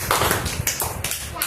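Children in a classroom clap together in an irregular, fairly loud burst of hand claps mixed with shuffling and overlapping voices.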